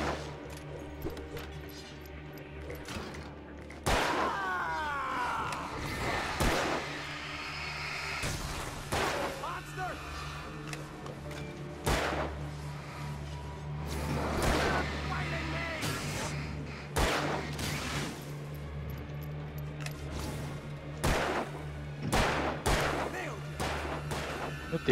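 Gunfire in the video game Alan Wake: sharp, loud shots at irregular intervals over a dense, rumbling game soundscape.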